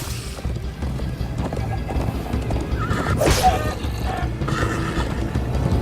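A horse in Minecraft: Story Mode whinnies over steady galloping hoofbeats, the neigh rising mid-gallop above a dense, continuous clip-clop.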